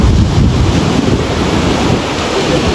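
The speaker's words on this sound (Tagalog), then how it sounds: "So ito yung dagat." Sea waves roll and wash continuously where the sea meets fresh river water on the coast at Aparri, Cagayan, a loud broadband rush with heavy wind buffeting the microphone.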